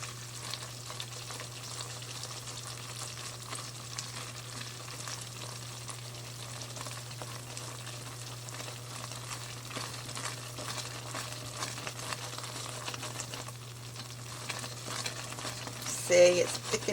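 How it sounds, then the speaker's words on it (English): A pot of caramel mixture bubbles and sizzles steadily on the stove while being stirred, a soft continuous frying hiss with a faint hum beneath and a few utensil scrapes near the end. "Just keep a stir on it for 3 minutes after it starts boiling."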